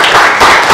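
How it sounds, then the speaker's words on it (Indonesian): Students in a biology class clap briefly for a classmate, a short close burst of a few hands lasting under a second with no speech over it. "kasih tepuk tangan untuk teman kita ya"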